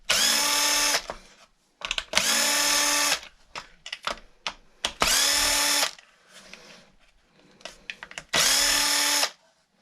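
Power drill backing screws out of a Traxxas Wide-Maxx RC car, four loud whirring bursts of about a second each, separated by quieter clicks and handling noises, close up.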